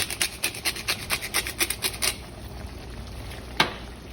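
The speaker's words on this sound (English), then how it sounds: "we're gonna stir that around" A utensil stirs salt, smoked paprika and black pepper through a keto brunch skillet with quick rhythmic scraping strokes, then one last scrape after a pause, all over a faint sizzle.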